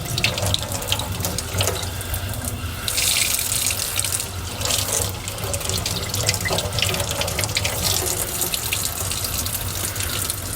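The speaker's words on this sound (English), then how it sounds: "we just want to rinse it underwater" Running tap water pours steadily into a sink while an aquarium plant, an Anubias Nana Variegated, is rinsed under the stream to wash gel from its roots, with a continuous close splashing hiss throughout.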